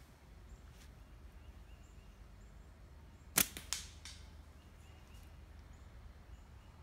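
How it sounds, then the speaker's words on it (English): A slingshot fitted with a 1/32 pure gum rubber flat band fires outdoors: one sharp snap followed by a quick metallic tick from a can hit, then brief rattling, against faint ambient hiss and no talk. "And the first shot will be at the can to kind of warm it up."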